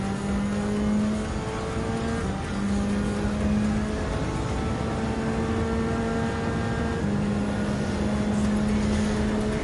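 An Alfa Romeo 4C Group 4 race car engine drones steadily in Gran Turismo 7, holding a sustained tone that dips and climbs slightly through gear changes, loud and continuous with no talk.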